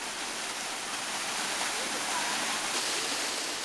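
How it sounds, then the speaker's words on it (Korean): Steady, dense roar of a waterfall at Great Falls Park in Virginia, a close, continuous rush of falling water with no pauses, filling the scene at constant loudness throughout. "주위에 폭포가 있다."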